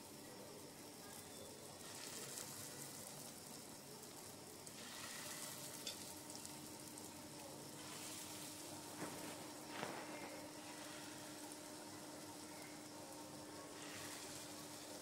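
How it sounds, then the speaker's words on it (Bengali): Small pea lentil fritters fry in hot oil, giving a faint, steady bubbling sizzle with a few soft clicks from a utensil in the pan. "এই তেলের মধ্যে আমি বড়াটা ভেজে নিচ্ছি।"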